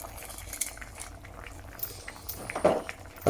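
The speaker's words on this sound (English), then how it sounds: "we just want it bubbling away" Rabbit stew with bay leaves simmering in a pot, giving soft irregular bubbling pops and a few light clinks of a utensil, close and fairly quiet, with no talking.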